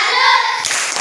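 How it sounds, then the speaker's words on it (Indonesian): A classroom group of pupils claps a salute in unison, a short burst of bright, close hand claps with no talking. "Tepuk salut untuk kelompok 1."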